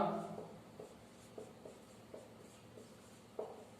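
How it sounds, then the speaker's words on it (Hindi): Faint scratching strokes of writing an example sentence on a classroom board, short scrapes repeating at irregular intervals over a quiet room with no voices. "दूसरा एग्जांपल लिख देते हैं, राम कहां"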